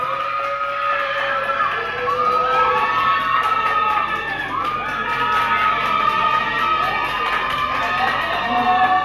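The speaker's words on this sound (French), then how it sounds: "Julien Sophia, on applaudit très fort." Crowd at a Haitian beauty pageant semifinal cheering and applauding a contestant, with loud whoops, shouts and high calls rising and falling over a continuous bed of clapping, near and energetic throughout.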